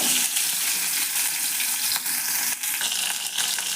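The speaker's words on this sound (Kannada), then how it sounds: "ಆಮೇಲೆ ಬೆಳ್ಳುಳ್ಳಿ ಹಾಕ್ತೀನಿ ಇದ್ರಾಗ ಫ್ರೈ ಆಗಲಿ" Garlic sizzles and crackles in hot oil in a pan alongside green chillies, a dense continuous frying hiss with occasional stirring scrapes.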